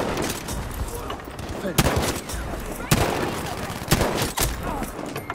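Lee Enfield bolt-action rifle shots in Battlefield 5, several sharp loud reports spaced out about a second apart over a dense, noisy battlefield din of distant gunfire and explosions.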